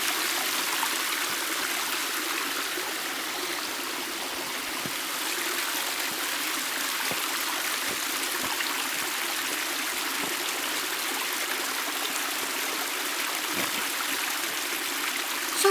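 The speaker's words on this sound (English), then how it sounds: "We are in a small stream or waterfall" A small stream or waterfall flows steadily outdoors, a constant hissing rush of water with faint trickles and splashes, even in level throughout and with no voices.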